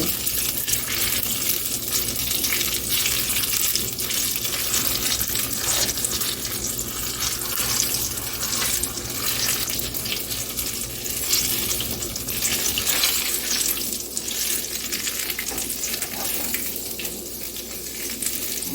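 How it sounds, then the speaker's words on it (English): Homemade fried pies frying in hot oil, a dense continuous hiss and crackle that stays loud and close throughout, with no talking. "Okay, we'll fry them up on this side."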